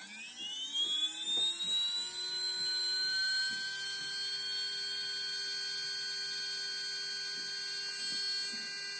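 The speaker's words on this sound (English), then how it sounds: "It's making a high pitched whining noise." Spektrum 3150KV brushless motor in a Losi LMT monster truck spins up to full speed, a steady piercing high-pitched whine with layered tones, loud and close, with faint clicks early on.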